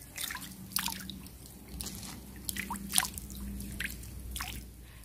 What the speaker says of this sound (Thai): ขออนุญาตล้างเห็ด